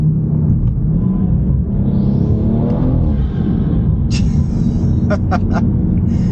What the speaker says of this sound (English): that turbo sounds insane, man